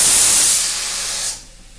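A pressure cooker vents steam in a loud, steady hiss that lasts just over a second, then cuts off abruptly into near silence.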